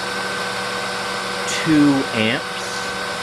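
Bosch Premium Electro Duo XXL vacuum cleaner running with a steady, loud motor drone throughout while someone speaks briefly over it.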